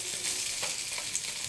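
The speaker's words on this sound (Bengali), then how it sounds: "মাছ ভাজা হচ্ছে" Fish fries in hot oil, giving a brief, steady hiss and crackle of sizzling without any voices.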